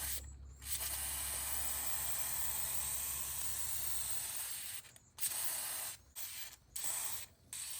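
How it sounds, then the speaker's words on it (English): A steady, loud aerosol hiss of grease sprayed around the outside of a filter runs for several seconds, followed by a few short spray bursts with brief pauses between them. "I'm going to spray a little grease around the outside"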